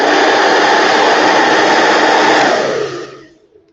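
A handheld hair dryer runs with both speed and heat switches pushed to maximum, a loud steady roaring whoosh of airflow that holds for several seconds and then winds down as it is switched off.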